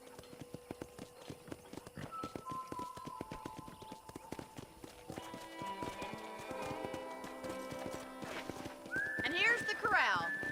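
Horses clip-clop around a ranch corral in the Red Dead Redemption video game, their hoofbeats tapping in quick rhythm with a neigh toward the end, under people talking.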